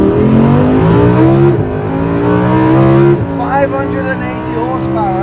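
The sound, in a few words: 580 horsepower supercar engine revving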